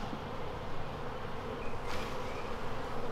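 A dense swarm of honey bees buzzes steadily and close during a hive inspection, a continuous droning hum with no voices.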